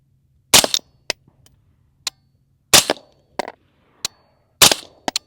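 Three suppressed rifle shots from a Griffin Armament HRT 556 suppressor ring out at an outdoor range as sharp, loud cracks spaced a couple of seconds apart, with faint clicks and echoes between them.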